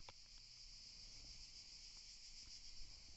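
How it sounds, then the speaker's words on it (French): Steady high-pitched cricket chirring fills the air, a continuous insect drone with no voices, quiet and unbroken throughout. "Je vous offre les grillons quand même"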